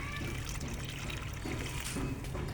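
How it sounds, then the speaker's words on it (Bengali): Water pours steadily and close by from a mug onto plants, a continuous splashing trickle with no pauses throughout. "এই যে এখানে পানি দাও, এক মগ দিলেই হবে।"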